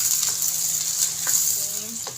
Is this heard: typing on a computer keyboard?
no